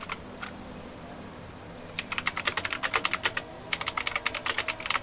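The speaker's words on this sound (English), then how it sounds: "Sorry for the loud keyboard noises." Loud computer keyboard typing during an online racing league session: bursts of rapid, sharp key clacks, close and clear over a faint background.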